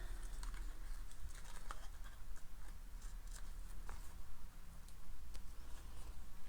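Ribbon ends are snipped with scissors on a craft project, giving a few faint, quiet clicks and snips spread over a low background hum.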